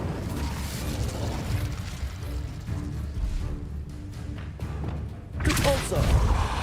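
An Incendio fire spell is cast in the Hogwarts Legacy video game: a sudden loud burst near the end over busy combat clatter and thuds, with voices talking through the fight.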